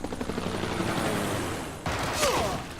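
A helicopter's rapid rotor thrum in the video game Civilization 6 runs throughout, loud and close, joined near the end by a burst of game noise and a brief tonal sweep.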